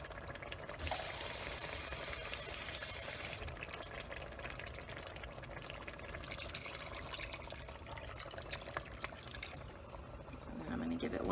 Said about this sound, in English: I'm just going to fill this up with water and dump it in there